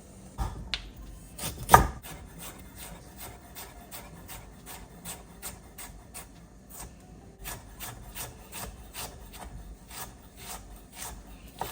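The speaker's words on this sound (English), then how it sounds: "I am going to thinly slice a lovely piece of ginger" A knife thinly slicing a piece of fresh ginger on a board, giving a steady run of soft, quick taps close by with one louder knock early on, and no talk.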